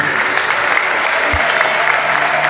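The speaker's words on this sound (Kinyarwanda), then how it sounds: "Amashyi menshi cyane." Applause rolls steadily from a wedding crowd in Rubavu, a dense, continuous clapping that stays loud and even throughout with no pauses.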